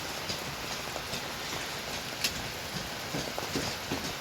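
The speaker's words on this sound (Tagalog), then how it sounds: "Grabe, lakas pa rin ang ulan." Steady rain hisses across the surface with scattered louder drops and taps, a continuous wash of sound with no voices.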